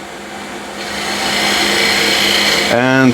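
A hollowing tool cuts inside a piece of wood spinning on a lathe, a steady rising scraping whir that builds in intensity, ending with a brief voice near the close.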